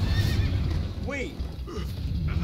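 A horse in the video game Minecraft Story Mode gives a clear rising whinny amid hoofbeats and game action, with a person talking over it.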